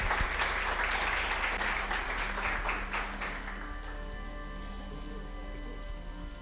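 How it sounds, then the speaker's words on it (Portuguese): An audience at a Spiritist meeting applauds to welcome a speaker, with a dense burst of clapping that gradually thins and fades over several seconds. "Palmas para o nosso irmão."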